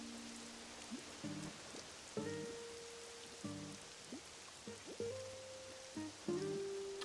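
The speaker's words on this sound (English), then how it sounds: "chill and enjoy the rain for a minute" Soft rain hisses steadily in the Pokémon Pokopia video game, quiet and constant, while faint tonal game sound effects chime intermittently over it.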